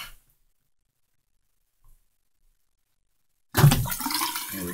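Water drains from a sink after the plug is pulled, while a clogged drain is treated with baking soda and vinegar; near silence gives way to a sudden loud, gurgling rush that carries on steadily to the end.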